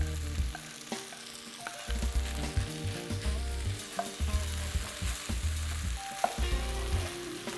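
Cabbage fries in a pan for cabbage rice, giving a continuous close sizzle with stirring and clattering knocks against the pan, plus low rumbling handling noise, and no talking.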